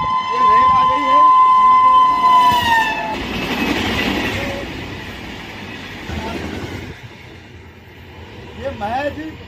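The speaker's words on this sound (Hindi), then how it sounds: "मेरे पीछे आप देखिए रेल आ गई है, ये रेल आ गई है।" A train passes just a few feet away on a railway track beside a historic site in India, starting with a long loud horn blast and then a rushing, rumbling roar of wagons, while someone talks over it.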